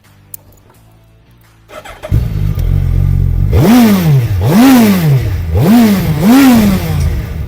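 A 2023 Suzuki Hayabusa with a Yoshimura exhaust starts up after a quiet moment, then gets revved four times in sharp, rising-and-falling blips, loud and close.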